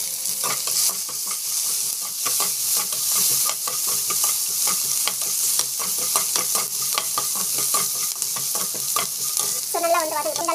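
Chana dal sautéing with asafoetida and salt in a pan: a steady sizzle broken by repeated rhythmic scraping strokes of a spoon stirring, close and clear, with no talking.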